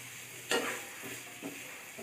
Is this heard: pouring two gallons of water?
no